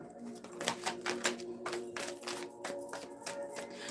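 Playing cards riffle-shuffled twice indoors, producing quick rapid fluttering bursts with brief pauses between them, followed by a few light taps, fairly quiet and close.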